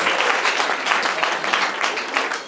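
A church congregation claps in prolonged, dense applause during a worship service, a steady close patter of many hands with no break and no talk over it.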